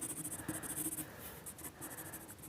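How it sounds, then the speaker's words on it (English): A 2B pencil sketches on paper in quick, rhythmic scratchy strokes, close and quiet, with short pauses between bursts of shading and no talk over it. "This is a 2B pencil"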